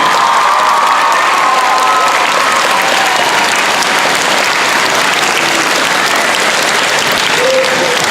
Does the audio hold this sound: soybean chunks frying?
no